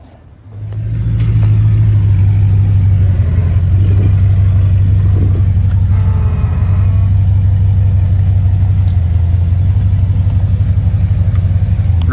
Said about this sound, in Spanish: así hace motor